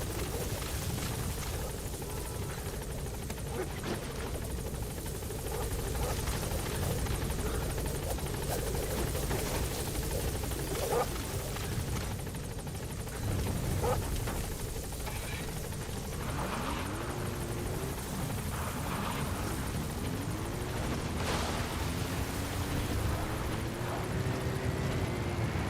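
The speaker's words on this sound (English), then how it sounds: "Support helicopter extraction arrived at Medbase." Helicopter flying in the video game Metal Gear Solid V: The Phantom Pain, a steady rotor drone and engine hum that persists throughout, with rising and falling tonal sweeps and other game sounds mixed in.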